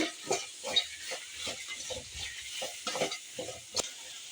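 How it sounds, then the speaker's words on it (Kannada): Horse gram that was cooked beforehand is stirred into fried onions in a pan, with a steady run of scraping and stirring strokes and a light sizzle, close up and fairly quiet, with no talking. "ನಾನು ಬೇಯಿಸಿ ಇಟ್ಕೊಂಡಿರೋ ಹುರುಳಿಕಾಳನ್ನು ಹಾಕ್ಕೊತೀನಿ ಚೆನ್ನಾಗಿ ಮಿಕ್ಸ್ ಮಾಡ್ಕೊಳ್ಳೋಣ"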